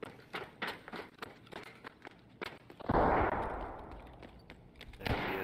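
Gunfire in the shooter game Escape from Tarkov comes as a string of sharp, fairly faint cracks at irregular intervals, then a heavier burst followed by a rushing, fading rumble, with more scattered shots after.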